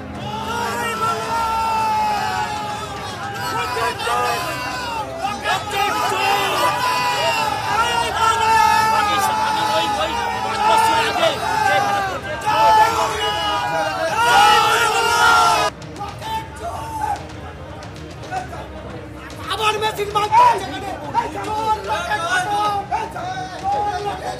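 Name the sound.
crowd chanting 'go back' slogans at BJP candidate Locket Chatterjee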